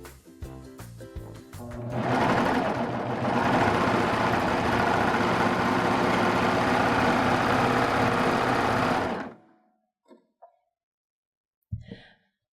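A Baby Lock serger runs in one continuous whirring stretch of about seven seconds, preceded by a few clicks and followed by silence and a couple of small handling knocks.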